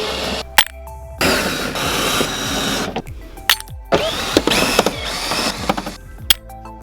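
A ratchet or small driver loosens 8mm and T20 bolts on a BMW F30 rear bumper, giving bursts of rapid mechanical whirring and clicking separated by sharp knocks and brief pauses, close up.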